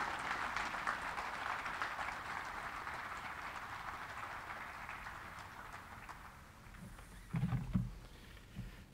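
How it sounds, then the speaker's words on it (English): A crowd applauds faculty award winners at an outdoor Army War College graduation on the Carlisle Barracks parade field, a broad distant clapping that holds steady and then thins out, with a few louder thumps near the end. "please join me in a round of applause for our faculty award winners"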